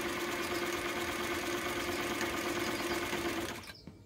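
A Singer 319W sewing machine stitches steadily at close range with a continuous rhythmic whirr, then slows and stops near the end, leaving a brief mechanical click.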